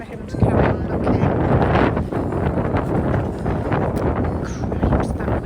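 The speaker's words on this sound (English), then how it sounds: "Cripes, that wind has really got up now." Strong gusty wind buffets the microphone at an outdoor Sunday morning French brocante flea market, a steady broadband roar with rising and falling gusts and faint background activity.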